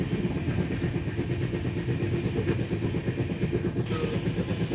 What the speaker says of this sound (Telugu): Now we are at Cherlapally railway station. Moving train.